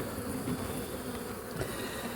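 Bees buzz steadily and close around a freshly drawn comb of new wax, a dense, continuous droning hum from many insects at once.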